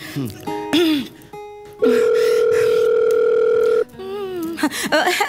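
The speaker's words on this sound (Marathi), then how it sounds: "हरकत नाही, मी त्यांना जरा फोन करते" A steady telephone dial tone hums for about two seconds on a comedy show stage, with voices and other sounds just before and after it.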